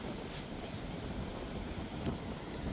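Strong wind blows over the sea along a fishermen's coast during a storm, a steady roaring gust with the wash of waves beneath it, buffeting the microphone continuously with no voices.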